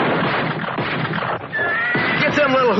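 Horse neighing and whinnying loudly up close, with a rising, quavering call toward the end, amid busy background noise and voices.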